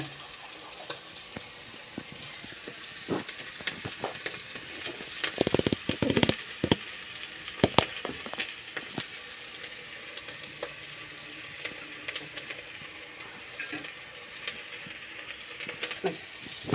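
Curry leaves stripped by hand and dropped into hot oil while cooking potato kurma, giving a steady close crackling sizzle with sharper pops bunched in the middle, and no talk over it.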